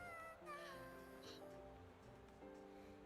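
A cat meow sound effect from a video game, one drawn-out tonal meow under faint background sound.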